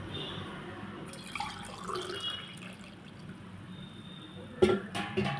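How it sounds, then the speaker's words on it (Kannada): Quiet splashing of water poured into a pot for ghee rice, with a couple of sharp clunks toward the end. "ಈಗ ನಾನು ನಾಲ್ಕು ಲೋಟ ನೀರು ಹಾಕಿದ್ದೀನಿ"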